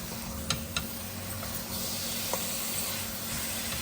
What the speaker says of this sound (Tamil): இப்போ நம்ம ஆல்ரெடி மேரினேட் பண்ணி வச்சுருக்கிற 3/4 கிலோ மட்டனை சேர்க்குறேன். நல்லா மிக்ஸ் பண்ணி விட்டுக்கலாம்.